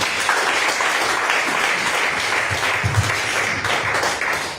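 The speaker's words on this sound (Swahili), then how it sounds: "Si upigie Bwana Yesu makofi" Church congregation clapping for Jesus during a main service, a dense burst of applause from many hands that stays full and steady for a few seconds.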